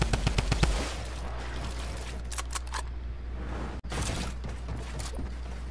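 Rapid pump-shotgun blasts from an online console shooter, a quick burst of sharp shots at the start followed by dense gameplay noise, whooshes and mechanical clatter, with a couple of further bright hits later.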